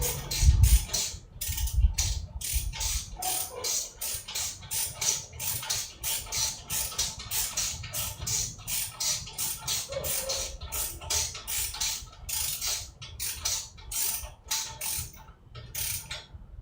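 A ratchet wrench torques down bolts on metal work, its rapid pawl clicks coming in repeated close strokes with brief pauses between pulls.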